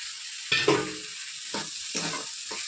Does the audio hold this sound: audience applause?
no